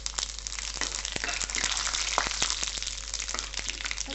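Whole spices sizzle in hot coconut oil, including mustard seeds, cumin, fennel and cinnamon, making a lively frying hiss full of sharp crackles and pops.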